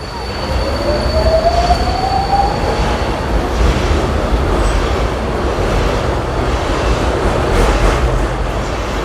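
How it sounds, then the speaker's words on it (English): A subway train pulls away with a rising whine and rumbling wheels, loud and close, with faint squeals over the steady roar. "We can see the train leaving on the other side."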